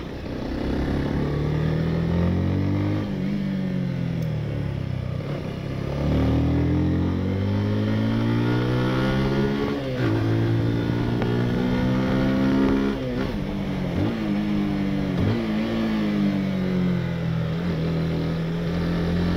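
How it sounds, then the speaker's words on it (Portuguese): A 160 cc motorcycle on a straight runs with a loud, close engine note that repeatedly climbs and drops as it shifts down through gears while braking. The revving pulses continue throughout. "nessa próxima passada na reta eu vou fazer uma redução de marcha aí, somando um pouco de freio, então fiquem aí com o som para acompanhar."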